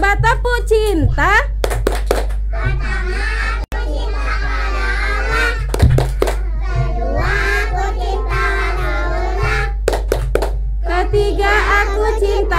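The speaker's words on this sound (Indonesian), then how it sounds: "Coba tepuk cinta." Kindergarten children chant and clap hands in the rhythmic tepuk cinta routine, young voices singing along with bursts of sharp claps and a short pause partway through.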